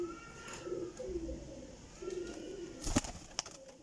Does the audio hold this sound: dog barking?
no